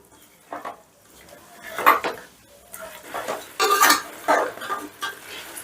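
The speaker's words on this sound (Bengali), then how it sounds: "চিকেনটাকে আমি বেশ ভালো করে কষে নেবে" Chicken for pulao is stirred and sautéed in a pan, with bursts of metal spatula scraping and clinking against the cookware, close and irregular.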